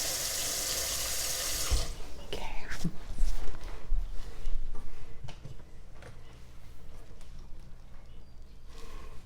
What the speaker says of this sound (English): Put that in the sink. I'm gonna put some water in it right away.